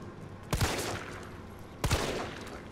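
Two loud gunshots from a handgun in Resident Evil 3, spaced about a second and a half apart, each a sharp crack with a short ringing tail over a steady background hum.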